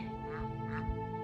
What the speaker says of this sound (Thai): เป็ดก็รอกินอาหาร